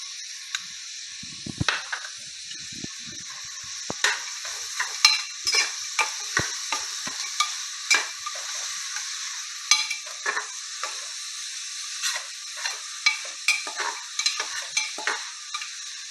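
Mutton curry being stirred in a pan with crushed garlic and ginger, a steady frying sizzle broken by frequent scraping and clinking strokes of a spoon against the pan, close and alone for the whole stretch.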